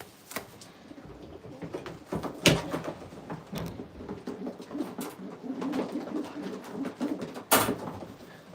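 Domestic pigeons in a breeding loft give soft, low cooing calls under quiet room noise, with a few sharp knocks and clatters nearby.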